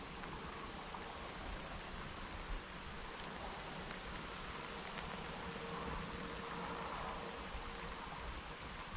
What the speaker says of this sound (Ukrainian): Такий дощ сипанув.